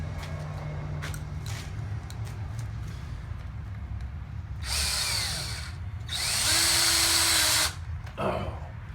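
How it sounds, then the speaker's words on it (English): Power drill driving screws into a lightweight hobby table, two loud bursts of whirring drilling after quieter handling noises, the second burst longer and steadier with a rising then levelling whine. "Then, put a couple of screws in it."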